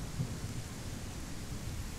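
Dense, steady roar of heavy rain in the video game The Isle Evrima, with a deep low rumble underneath, continuous and evenly loud throughout.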